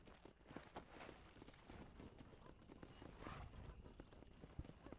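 Horse hooves clip-clop steadily at a walking pace in the Western video game Red Dead Redemption, set against a busy, dense backdrop of game ambience, with a faint whinny at one point.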